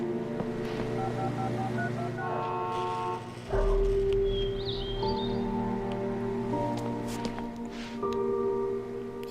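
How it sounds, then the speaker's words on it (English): Electronic phone tones in the video game Alan Wake: steady beeping pitches that change every second or so, layered over low rumbling ambience with a thump midway, fairly quiet overall. "We're hearing phone noises."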